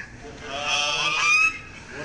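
A goose inside a Walmart store honking, a loud sustained nasal honk that swells and then breaks off, over a steady background of store noise.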